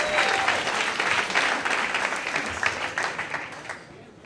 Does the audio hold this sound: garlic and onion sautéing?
no